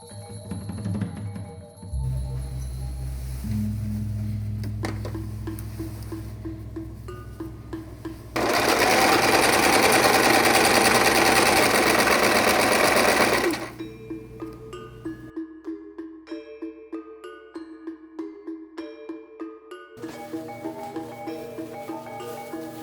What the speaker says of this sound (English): I'm going ahead and sewing up the sleeve seams